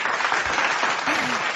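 An audience at a live radio broadcast claps briefly, a dense wash of applause lasting about a second and a half.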